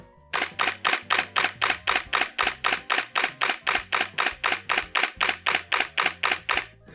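Nikon D800 DSLR shutter firing a continuous burst at about 5 to 5.5 frames per second, roughly two dozen crisp, evenly spaced clicks, close and loud, with no voices.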